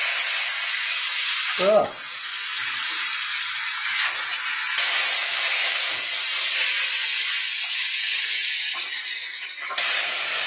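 Salisbury steak patties cook in a hot pan with a steady, loud sizzle that carries throughout, along with a brief grunt of a voice and a few faint clinks.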